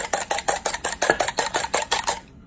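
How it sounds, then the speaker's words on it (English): Eggs whisked into a light foam in a bowl, a quick regular series of about a dozen close metallic clicks and scrapes, loud and alone, then an abrupt stop. "the next step will be whisking your eggs until you have a foam"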